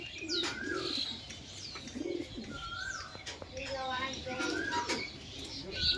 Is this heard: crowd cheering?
no